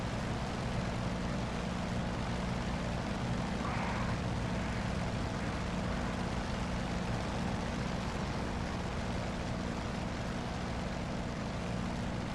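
Steady propeller aircraft engine drone from the DCS flight sim game, a continuous loud hum with no break and no talk over it.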